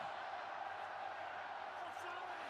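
Crowd noise inside the Principality Stadium during a Six Nations rugby match between Wales and Ireland, a steady distant roar from the stands, fairly faint and continuous.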